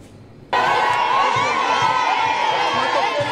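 A large crowd of townspeople in the border town of Kasumbalesa loudly cheers and shouts to welcome the prime minister, a sudden dense roar of voices, whoops and whistles that swells in and stays steady throughout.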